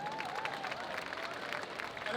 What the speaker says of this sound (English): we all have a round of applause for our panel here.